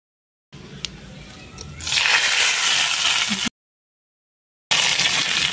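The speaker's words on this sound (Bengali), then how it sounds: "এটা এবার ভাতের মধ্যে ঢেলে দেবো" Hot mustard oil tempering with cumin, coriander and chillies poured over rice sizzles loudly in a close, hissing burst, cuts out briefly, then flares up again in a second sizzle.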